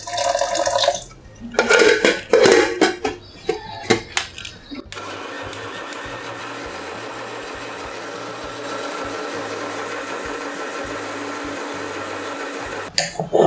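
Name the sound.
mixer grinder grinding soaked lentils into batter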